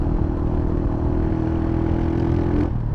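Motorcycle engine ridden over a rough road, a loud, steady mid-pitched engine drone with a sustained tone and rattling clatter from the bumpy surface, close up and without talk.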